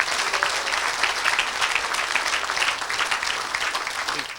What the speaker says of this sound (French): Acclamez pour Jésus, s'il vous plaît.